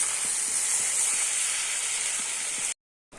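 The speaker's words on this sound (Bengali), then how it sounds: "তরকারিতে তো বলক উঠে গেছে" A pot of prawn curry with stalks, potato and tomato bubbles at a steady boil, giving a loud, continuous close-up sizzle and hiss that cuts off abruptly near the end.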